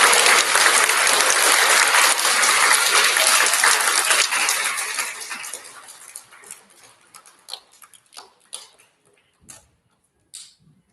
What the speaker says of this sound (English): We have a big round of applause for all of our first graders.